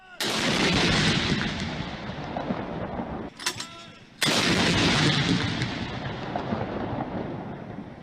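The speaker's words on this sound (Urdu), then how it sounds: "دن کا آغاز توپوں کی سلامی سے ہوا۔" Cannon salute fired on Pakistan Day, heavy booming blasts with long rolling echoes, one big report then a brief lull before another loud boom and a sustained rumble.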